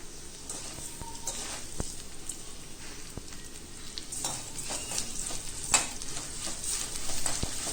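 Urad dal frying with ridge gourd peels in a pan for a chutney, a soft continuous sizzle with occasional sharp crackles and pops and the scrape of stirring, close and moderately quiet.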